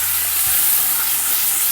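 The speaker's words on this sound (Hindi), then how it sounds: "अब इस स्टेज पे गोश्त शामिल करेंगे और साथ ही इसमें जाएगा लहसुन पिसा हुआ और इसको हल्का सा फ्राई करेंगे" Meat and crushed garlic fry in a pan for Afghan Kabuli pulao, a loud, dense sizzle with a soft stirring shift partway through, close and uninterrupted.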